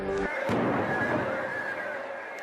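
Explosions in a city street, heard from an upper floor: after a brief tonal hum, a sharp boom bursts out and leaves a rumbling, noisy wash that fades slowly.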